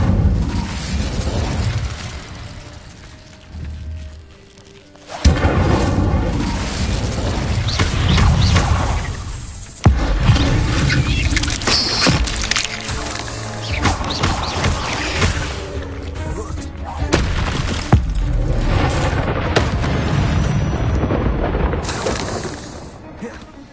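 Incendio fire spells blast in the video game Hogwarts Legacy with sharp whooshing booms that burst out several times amid a dense, loud wash of game sound, with voices heard at times.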